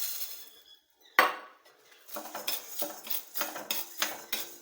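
About a hundred grams of chana dal dry-roasts in a pan for idli podi. A sharp clatter is followed by rhythmic rattling and scraping strokes as the lentils are stirred.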